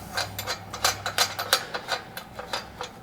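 A ratchet tightens a nut onto a U-bolt on a double hydraulic PWC lift, giving rapid close clicking in short irregular bursts through the whole stretch, with no talking.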